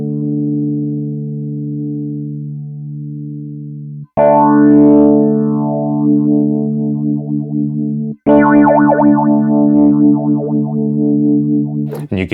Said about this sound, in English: you can hear how all of these effects can add interest to the simple E piano right here